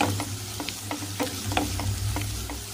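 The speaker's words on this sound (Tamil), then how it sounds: "பாருங்க ஆனியன் வந்து நல்லா ஃப்ரை ஆயிடுச்சு." Chopped big onions fry in a hot pan, giving a steady sizzle broken by light, irregular scrapes and stirring clicks, close and fairly quiet, with no talking.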